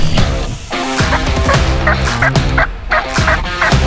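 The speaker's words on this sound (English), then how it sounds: "We just had 2 gobblers come in." Several wild gobblers on a turkey hunt sound off with loud, rolling gobbles, repeated bursts close by against an outdoor background.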